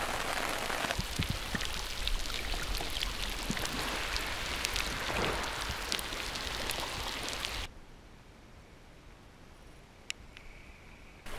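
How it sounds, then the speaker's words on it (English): Steady rain patters heavily on a surface for several seconds, then abruptly drops to a quiet hush with a few stray drips. "The rain was incredibly refreshing."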